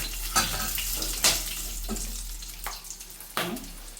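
Cinnamon, three or four cloves and two or three cardamom pods frying in oil for egg pulao, a close sizzle broken by sharp scraping stirs at intervals.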